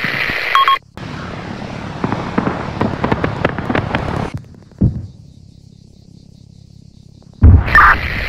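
A loud roaring engine drone passes with scattered sharp bangs, then cuts out, leaving a faint hum before another burst near the end.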